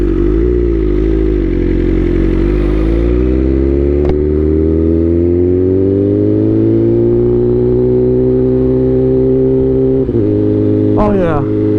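A BMW M 1000 RR superbike with an Alpha Racing quickshifter revs hard and climbs through gears, its loud, close engine note rising steadily with quick shift breaks and a final sharp clattering blip near the end.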